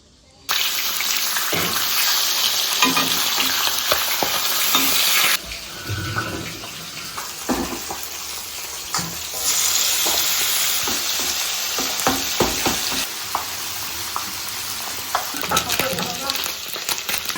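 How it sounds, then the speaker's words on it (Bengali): Fish frying in a pan, a steady loud sizzle with clinks and scrapes of stirring, the hiss easing briefly midway before picking up again; no talking. "দিদি মাছ ভাজা বসিয়ে দিয়েছেন"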